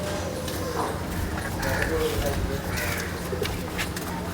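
Breeder pigeons cooing softly amid a steady background hum, low repeated calls close by.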